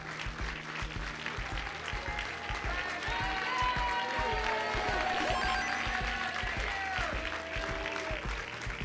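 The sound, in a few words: crowd applauding Tetris player after match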